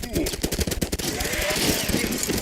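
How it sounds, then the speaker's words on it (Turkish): Rapid, loud minigun fire from the Paint Warfare video game, a dense stream of closely spaced shots pounding steadily throughout, with a voice talking over it. "Minigunla öldürdüm."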